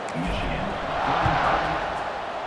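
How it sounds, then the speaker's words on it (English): A college football stadium crowd buzzes loudly after a score in the Colorado Buffaloes versus Michigan game, with a broad steady roar under a play-by-play announcer's voice. "this crowd is buzzing after that last score"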